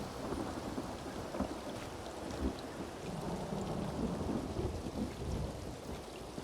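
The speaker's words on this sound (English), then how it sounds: "it is raining so hard" Heavy rain pours steadily with rumbling thunder in the video game Elder Scrolls Online, a dense, continuous downpour filling the scene with no voices over it.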